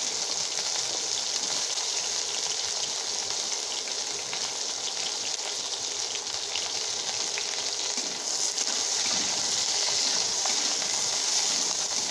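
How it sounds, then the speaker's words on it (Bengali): Bitter gourd and vegetable stalks frying together in hot oil, giving a steady, dense sizzle that runs unbroken and fairly loud throughout, with no talking. "এই উচ্ছেগুলো ভেজে নেবো আর ডাটা একসাথেই ভেজে নেবো তাহলে তাড়াতাড়ি হবে"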